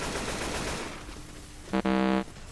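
Burst of automatic gunfire in Left 4 Dead 2 during a gas-can filling match, a single short rattling volley standing out clearly after a quieter stretch of background game noise.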